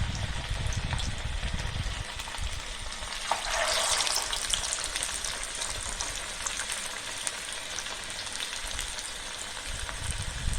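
Pumpkin gharya, poppy-seed-coated sweet fritters, deep-frying in oil in a wide flat pan; a dense, continuous bubbling sizzle swells briefly in the middle and then holds steady, with no voices.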